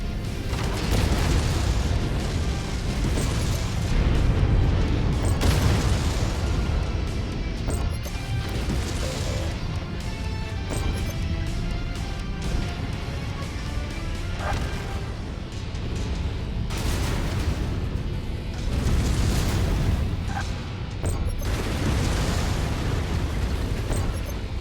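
Continuous loud rumbling blasts and crashes of missile explosions in the mech combat game Mechwarrior 5, with repeated heavy booms rising above a dense, roaring battle din throughout.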